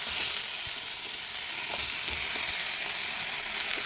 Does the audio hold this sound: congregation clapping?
no